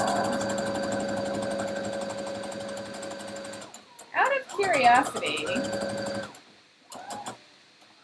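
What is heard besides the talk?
sewing machine running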